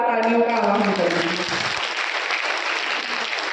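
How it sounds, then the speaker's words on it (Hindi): Loud applause from a crowd fills the room at a government child development department event in Gonda, India, starting over a brief voice and carrying steadily to the end. "एक बार दोबारा से जोरदार तालियों का आह्वान करूंगी।"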